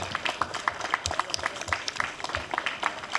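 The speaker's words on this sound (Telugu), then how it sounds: "చప్పట్లు ఆగొద్దు మేడం, పైకి వచ్చారు." Scattered clapping from a small crowd at a statue unveiling ceremony continues as a woman arrives on stage, with uneven, fairly quiet claps that carry on steadily throughout.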